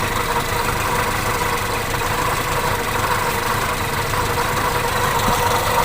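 A Toyota Kijang Super with the 5K engine idles with a rough, snoring knock, a continuous, steady mechanical drone heard close up in the engine bay with no pauses.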